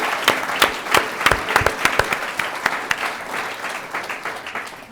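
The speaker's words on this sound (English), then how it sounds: "yes, we can applaud that" Scattered applause from a modest audience at a public talk, with distinct individual claps standing out at first before thinning into a lighter, fading patter.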